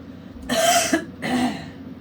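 Two lingering COVID coughs from an adult, close and fairly loud, separated by a short pause, with no talk around them.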